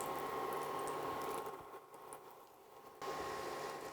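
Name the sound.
crabs frying in hot oil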